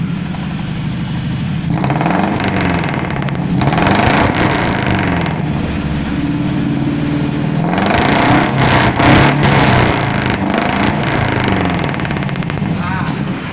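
A pickup truck fitted with an HKS Titan aftermarket exhaust revs repeatedly up close, its loud raspy note rising and falling in several throttle blips over a rumbling idle.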